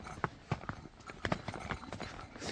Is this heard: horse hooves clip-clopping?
yes